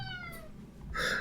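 A cat lets out a single drawn-out meow that slides downward, followed by a brighter, louder cry near the end, close by in a quiet indoor room.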